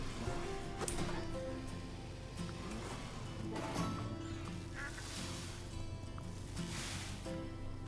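Ducks quack in the farming game Farm Together, with repeated short calls mixed into busy game music and ambient sound at a moderate, even level.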